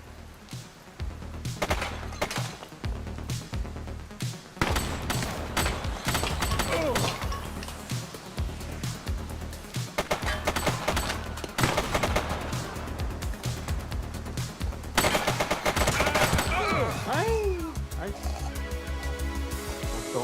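Rapid gunfire and heavy thuds in the police video game The Precinct crackle over continuous game noise and music, with a character shouting over the shooting throughout.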